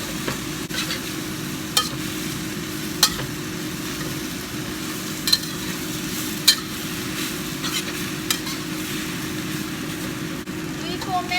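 Chicken and rice noodles stir-fry in a hot pan or wok, a steady sizzle with occasional sharp clacks of a utensil scraping and tossing, while a person talks over the cooking.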